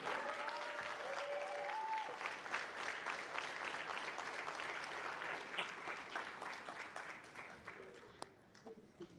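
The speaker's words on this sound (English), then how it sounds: "please join me in welcoming with the biggest round of applause" Sustained audience applause at a diabetes awareness and fundraising event in Adelaide as a speaker is welcomed, a dense steady wash of many hands that thins and fades toward the end.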